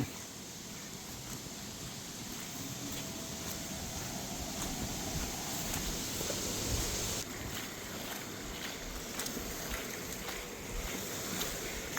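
Gusty wind buffets the microphone over a steady wash of surf on a beach, a rough, continuous roar with waves rolling in the background.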